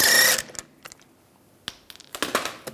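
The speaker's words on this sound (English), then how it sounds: "use a 17mm socket, take the lug bolts out" A 17mm socket on a ratchet loosens lug bolts on a 1999-2005 Volkswagen Jetta rear wheel, giving close, short bursts of metallic clicking and clatter separated by brief pauses.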